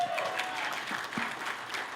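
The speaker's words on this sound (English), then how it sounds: "Give them a giant round of applause." A conference audience of professional speakers claps together in a warm burst of applause, dense and steady for a couple of seconds, with some crowd noise blended in.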